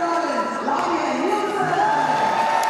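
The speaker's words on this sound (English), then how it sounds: "Lavia Nilsson takes the acclaim of the home crowd" Home crowd at an indoor athletics championship cheering and roaring steadily for Swedish-named runner Lavia Nilsson, a dense sustained ovation with whoops rising through it.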